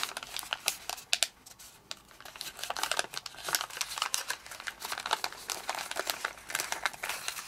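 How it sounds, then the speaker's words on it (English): Origami paper is folded and creased up close, giving a continuous crinkling and crackling with sharp, irregular rustles, quiet overall and heard without speech. "now fold this flap so that this edge aligns with the crease"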